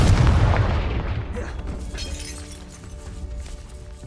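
A Confringo blasting spell explodes in Hogwarts Legacy, a loud booming burst with shattering debris at the start that rumbles and crackles as it fades over a few seconds.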